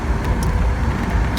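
A 2001 Mercedes-Benz SL600 roadster with a 12-cylinder engine cruising down the road, a steady loud rumble of engine and tyre roar with wind noise, heard from inside the open car, no talking.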